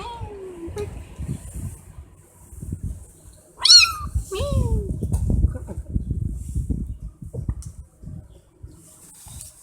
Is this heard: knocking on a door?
no